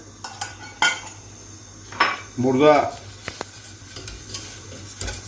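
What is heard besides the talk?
milk boiling in pot with stirring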